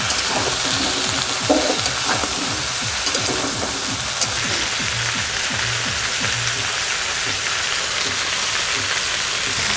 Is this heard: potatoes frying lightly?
yes